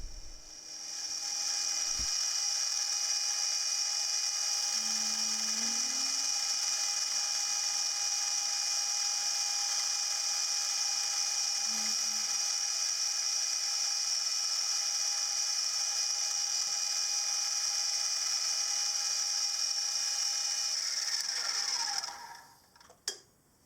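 A 5BA clearance hole being drilled in metal with a machine drill, a loud steady high whine running unbroken for around twenty seconds before winding down, no talk.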